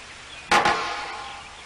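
A heavy object is dropped onto a floor at the University of Cambridge: one sharp impact, then a quick second echo-like strike and a reverberant tail that fades into a quiet room.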